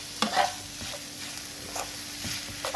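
Minced meat fries in a pan while being stirred, heard as a continuous close sizzle broken by soft scraping strokes of the utensil at an irregular pace, with no talking.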